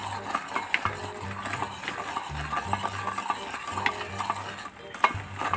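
Melting sugar and baking soda for dalgona candy are stirred in a small pan, a quick run of scraping and tapping utensil strokes with a faint sizzle underneath, close and continuous, no voices.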